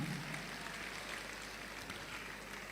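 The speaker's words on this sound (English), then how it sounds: "Can I hear that applause for him one more time?" Faint, distant applause from an audience at a birthday colloquium in Abuja, a soft continuous patter of clapping across a large room.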